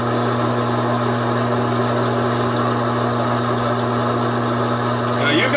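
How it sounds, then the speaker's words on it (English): A Taig lathe motor runs steadily with a constant hum while a spring parting tool cuts, the drone even and close throughout with no pauses. "Looks like the motor will keep running."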